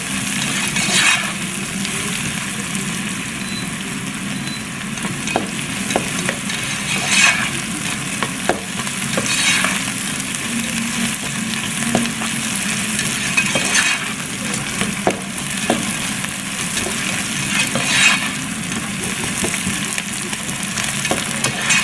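Chopped onions fry in oil in a pan for a vegetarian capsicum curry, sizzling steadily and close for over twenty seconds while a spoon stirs and scrapes now and then, with no talking.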